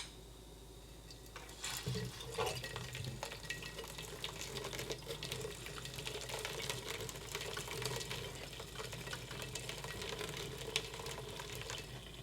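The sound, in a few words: pouring boiling water onto glass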